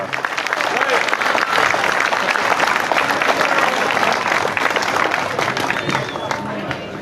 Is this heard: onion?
no